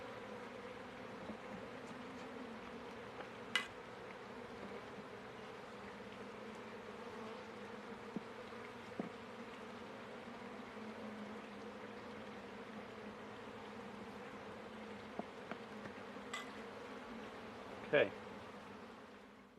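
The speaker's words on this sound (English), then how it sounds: "So there's bees down in there, and there." Constant low buzzing of many honey bees droning together in a hive, with a few faint clicks and a brief word spoken quietly nearby.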